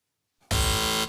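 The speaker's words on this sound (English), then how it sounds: "Fingers on buzzers." A game show contestant's buzzer on Richard Osman's House of Games sounds once, a loud, harsh sustained electronic tone that cuts in abruptly after a brief quiet and holds for about half a second before dropping away.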